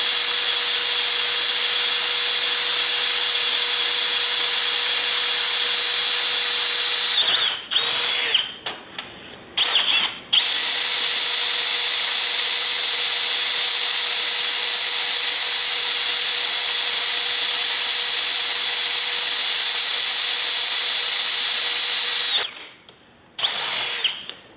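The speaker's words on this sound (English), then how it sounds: "I do got to sharpen some of these drill bits or replace them. It's biting through, it's just really hard steel." Power drill bit boring through hard steel, a loud sustained high-pitched whine that stops twice briefly with a few short bursts between, then runs on steadily before halting again near the end.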